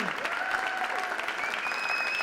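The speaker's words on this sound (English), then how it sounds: "applause for our runner-up, Choker" Audience applause for the runner-up at the final of the 2022 Predator World Women's 10-Ball pool championship, a steady continuous clapping from a crowd filling the whole moment, with faint tonal sounds drifting over it.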